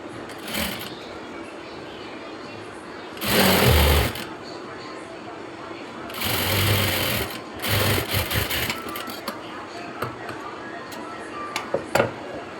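A sewing machine stitches churidar pants in fast whirring bursts, with several loud runs separated by pauses filled with cloth handling, shifting fabric and soft clicks.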